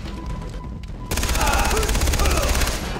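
A weapon in the video game Far Cry 3 opens up after about a second of quieter background, firing a loud, rapid automatic burst of shots that continues to the end.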